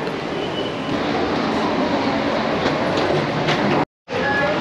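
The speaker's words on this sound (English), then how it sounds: "Train time." An airport terminal train rolls along, a steady, close rumble with faint rhythmic clatter from the track and a brief dropout near the end, heard from on board.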